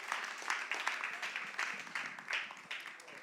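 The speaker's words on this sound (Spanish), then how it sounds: "Un aplauso al Señor por eso." A church congregation applauds in a dense patter of many hands clapping, fairly faint and steady over a few seconds with small swells.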